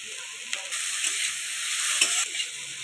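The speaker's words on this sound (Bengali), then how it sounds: "কাঁচা লঙ্কা দু টুকরো করে দিয়ে দিচ্ছি দানার মধ্যে" Pointed gourd seeds and halved green chillies frying in a pan: a loud, steady, close hiss of oil with a few soft stirring knocks.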